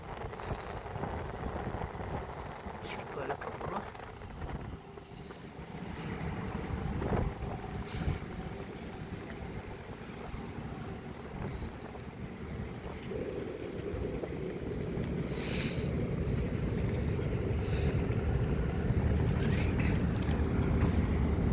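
Cargo ship under way on the river near the Mongla industrial area, a steady low engine rumble with rushing water and wind buffeting the microphone, slowly growing louder and more broadband over the stretch.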